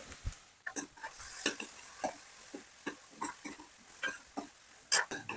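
Potatoes frying with onions in a pan, a soft background sizzle broken by scattered clicks and scrapes of a spatula against the metal, close but quiet.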